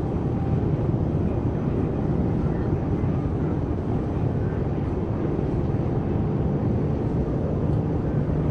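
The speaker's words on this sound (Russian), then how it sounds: "Вертолет." A helicopter flying in the military video game Arma 3 gives a loud, steady, rumbling engine and rotor drone that holds unchanged from start to finish, with no talk over it.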